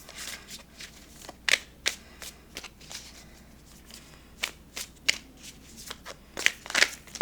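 Tarot cards being shuffled by hand for a card pull: a quiet, close series of crisp riffling snaps and soft flutters in irregular bursts, with no talking.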